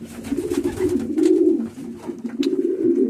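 Pigeons coo continuously inside a breeding loft. The low, rolling calls are close and fairly loud, with some faint rustling behind them and no talk.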